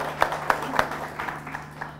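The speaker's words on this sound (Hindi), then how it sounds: "एक बार जोरदार तालियां हो मुन्ना खान जी के लिए" A scattered round of applause from an audience at an Indian poetry event greets a Congress guest, a few sharp, distinct claps rising over a faint room hum, quiet and brief.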